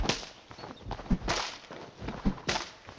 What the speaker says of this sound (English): I think I need to cut down these this bush.